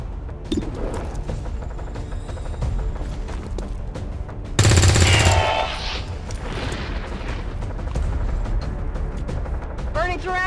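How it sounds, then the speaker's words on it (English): Gunfire in XCOM 2 rings out as bursts of automatic fire and loud shots, with a heavy blast in the middle, over game sounds and background effects. "Burning through ammo fast."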